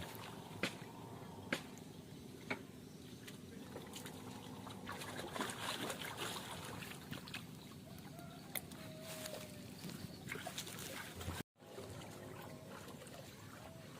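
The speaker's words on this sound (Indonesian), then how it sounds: "Ini lagi mendulang emas kan." Gold panning in water at the edge of the Katingan River in rural Kalimantan: continuous sloshing and trickling water with scattered sharp ticks and faint bird clucks in the background, steady throughout.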